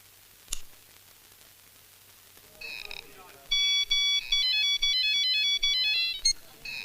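After a soft click, a mobile phone ringtone starts up: a bright electronic melody of repeated short beeping tones that plays loud and close for several seconds.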